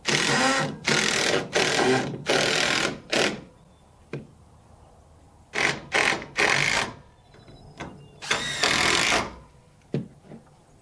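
A power drill whirs in repeated short bursts pre-drilling 2x4 wood for cabin subfascia, stopping and starting several times with faint knocks and clicks between runs.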